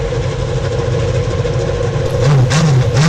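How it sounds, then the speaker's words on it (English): IndyCar racing engines idle in a loud, steady drone, with one engine blipping upward in pitch near the end as the field rumbles together at close range. "Drivers, start your engines!"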